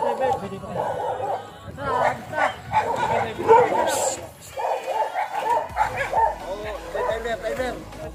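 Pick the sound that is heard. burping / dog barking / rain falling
dog barking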